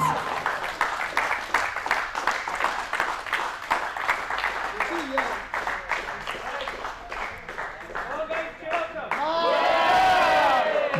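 Crowd at an indoor cricket final clapping in rhythmic unison for the runners-up, then breaking into loud cheering and whoops near the end, with voices mixed in.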